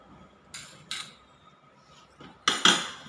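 A spoon mixes spices into besan batter in a bowl at home, giving several sharp clinks against the bowl, two early, then a louder cluster near the end, with quiet stirring between.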